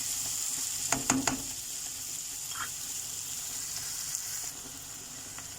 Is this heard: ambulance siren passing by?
no